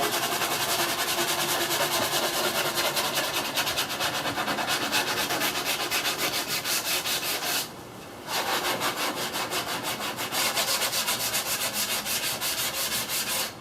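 Close, continuous sanding along the edge of a window rough opening cut in a teardrop camper wall, with fast rhythmic abrasive rubbing strokes and a brief pause partway through.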